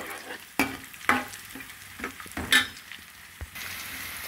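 Cashews frying with browned onions and chicken in a pan, a quiet continuous sizzle broken by several distinct spatula scrapes and taps against the metal, close and without speech.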